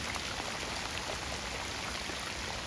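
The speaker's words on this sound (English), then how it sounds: "the rain's coming down nice and heavy now" Heavy rain falls outdoors in a steady, dense broadband hiss that stays unchanged throughout, close and loud, during a severe thunderstorm warning.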